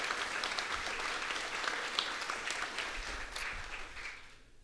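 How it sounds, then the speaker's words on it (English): An audience at a property owners' association annual meeting gives a sustained round of applause, dense and steady before fading out toward the end. "If we could give her another round of applause, well deserved."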